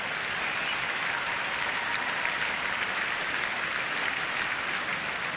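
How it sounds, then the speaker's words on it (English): Steady crowd applause fills the whole stretch, a dense even clapping from a large audience at a baseball game with no voices rising above it. "Getting a nice round of applause for the effort right here by the Nats first baseman, Adam LaRoche."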